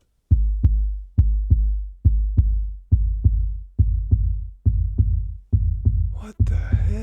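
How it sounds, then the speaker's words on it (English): Synthesized tom sub-bass hits for a groovebox, about a dozen evenly spaced thumps with a deep tail each, shifting from a pure tonal boom toward a noisier atonal thud, with a brief burst of higher noise near the end. "what you're hearing is the evolution from a tonal sub-bass to an atonal sub-bass."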